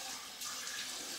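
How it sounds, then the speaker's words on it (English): Cold tap water runs steadily into a bathroom sink during a shave rinse, a close, continuous hiss that swells slightly partway through. "Just gonna put cold water and rinse down here."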